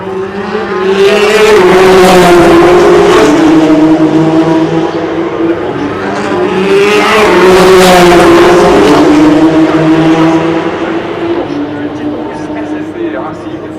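Race cars at the 24 Hours of Le Mans 2015 roar past in two loud swells of engine noise with rising and falling pitch, while a commentator talks over the track sound.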